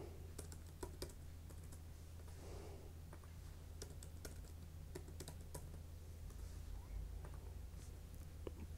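A password is typed on a computer keyboard, with quick irregular key clicks close by over a low background hum.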